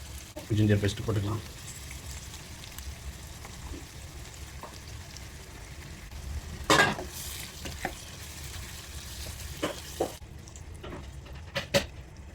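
Ginger paste and curry leaves fry in a pan for a chicken coriander gravy, with a soft steady sizzle broken by stirring scrapes and clanks of the spoon against the pan.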